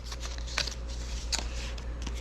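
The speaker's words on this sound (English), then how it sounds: "We'll pick 2 cards." Playing cards being drawn during a World War II air combat board game: two soft, quick papery swipes about a second apart, close and quiet over a faint steady hum.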